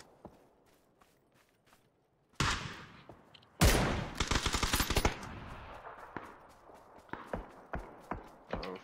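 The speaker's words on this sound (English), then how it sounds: "They're shooting." PUBG gunfire: scattered distant pops, then a heavy burst and a rapid volley of loud shots, followed by sporadic single cracks echoing at varying distances.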